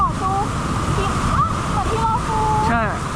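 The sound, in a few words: waterfall rushing water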